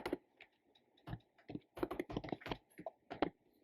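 Keys on a computer keyboard clatter as Python Tkinter code is typed, coming in quick irregular bursts and single taps, close and fairly quiet with no voices.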